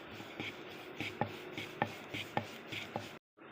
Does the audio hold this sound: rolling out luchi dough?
yes